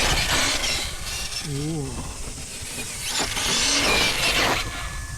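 Kyosho KC10 RC car with a Hobbywing Xerun 3300KV motor set to punch level 15 in low gear, accelerating in short whining bursts with rising pitch, close up, mixed with a brief exclamation and talking.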